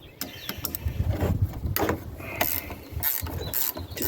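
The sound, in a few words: ratchet wrench loosening 7/16 nuts on a bike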